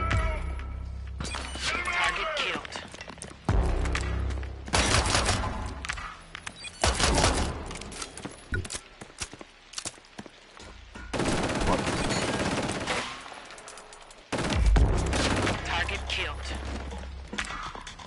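Gunfire in the video game Killzone Shadow Fall, bursts of rapid shots and heavy impacts alternating with quieter gaps, mechanical clicks, and voices talking between the volleys.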